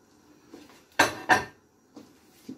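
Metal utensil scraping and knocking in a pan while stirring melting dil and kaşar cheese for mıhlama, two sharp loud clanks then softer scrapes, close and alone.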